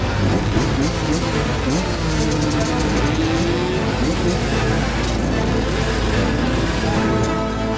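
Enduro motorcycles in the open class racing together from a mass start at the Lai Chau Enduro, a dense, steady roar of many engines revving and droning at once, loud and continuous throughout.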